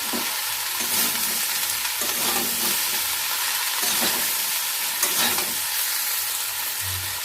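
Vegetables with spinach and shrimp sizzle steadily in a frying pan while a spatula stirs and presses them, making regular scraping strokes about once a second over the close, even frying hiss.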